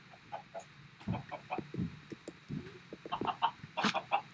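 Chickens clucking in Minecraft, a scatter of short, soft clucks and chirps in an irregular flurry, fairly quiet with a faint steady hum beneath and no talking.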